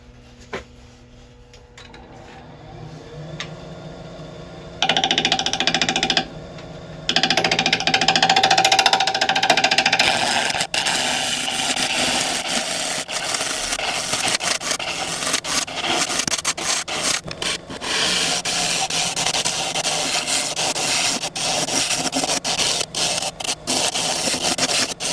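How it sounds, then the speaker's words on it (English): A woodturning scraper cuts into a wooden bowl spinning on a lathe, a steady loud rasping scrape with the motor hum running beneath, broken by brief pauses and shifts in pressure across the pass. "the scraper's going to come in to try and help sort that lot out"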